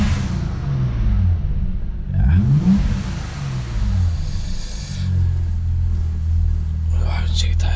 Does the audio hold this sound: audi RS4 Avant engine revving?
yes